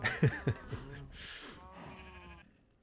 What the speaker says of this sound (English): We secured our sheep.